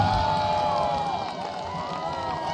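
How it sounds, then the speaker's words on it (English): Generic crowd applause and cheering from the audio of an EA Bionicle video game, a steady wash of clapping with a few cheers that runs for about two and a half seconds with no pause. "The generic applause sound effect to reflect the 6 audience members is a nice touch."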